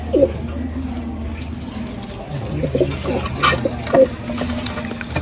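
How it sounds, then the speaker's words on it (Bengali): A female Madrasi Kaldama pigeon coos softly, with a few low repeated coos over faint background noise and brief rustles. "এটা মাদি পায়রাটা"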